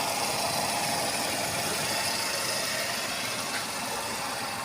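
A Renault Kwid engine idling steadily after a manifold vacuum leak repair, a smooth, even mid-pitched hum heard close and continuous with no talking.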